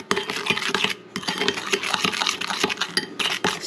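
A spoon scrapes and clinks steadily around a bowl, mixing red pepper flakes, cayenne and other spices for maple candied bacon, with busy close-up rubbing and tapping.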